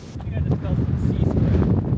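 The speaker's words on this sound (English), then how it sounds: "I think the gimbal has some trouble with the strength of the wind also." Strong coastal wind at Hermosa Beach, California, buffeting the microphone, low rumbling gusts that rise and fall over a couple of seconds.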